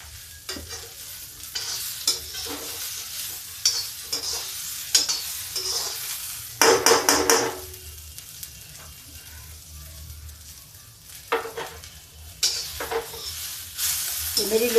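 Boiled potatoes and black-eyed peas frying with onion in an iron kadhai, with a soft continuous sizzle under repeated scraping and stirring strokes of a spoon, louder clatters now and then.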